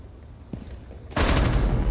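Gunfire in Rainbow Six Siege on the Kanal map during a team deathmatch hostage match: after a quiet stretch, a sudden loud, sustained burst of rapid shots erupts and continues close by to the end.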